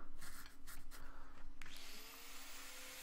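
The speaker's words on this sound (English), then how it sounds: "So I just got to set it up, grind it off." A power tool grinds off a weld on a metal electric lantern build. Brief handling noises give way to a loud, steady, high-pitched grinding whine that carries on to the end.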